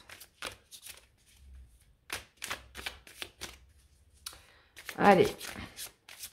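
Tarot cards are shuffled in a few short, dry riffling bursts, the loudest near the end, with a French-speaking voice talking between them.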